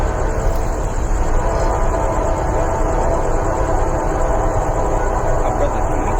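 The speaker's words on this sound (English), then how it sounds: "That's the quickest I've ever seen a train." A Norfolk Southern freight train rolls past close by on the GS&F District, a steady loud rumble of railcars with a faint horn tone above it.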